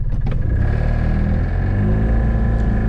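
A Ligier JS50 Young microcar pulling away from a standing stop, its small engine droning loud and close from inside the cabin, a low steady hum that builds slightly as it gets underway, no talk.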